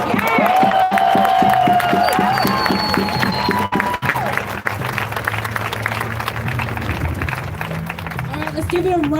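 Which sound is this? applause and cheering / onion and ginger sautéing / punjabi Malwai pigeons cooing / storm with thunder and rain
applause and cheering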